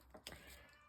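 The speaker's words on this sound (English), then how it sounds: "my kitty cat is demanding that someone come see her. She is meowing." A pet cat meows indoors, two quick faint mews in close succession, soft and somewhat distant, with quiet room noise around them.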